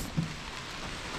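Steady rain falls around an old forgotten Volkswagen bus being rescued, a soft continuous hiss of drops with no talking.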